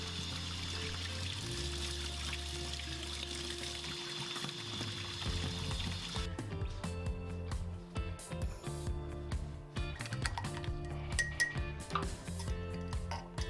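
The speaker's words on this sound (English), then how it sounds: "we're going to degrease it with some dish soap" A silver Morgan Dollar coin ring being washed with dish soap to degrease it, with running and pouring water, soft clinks against dishes or glass, and steady splashing close by with no talking.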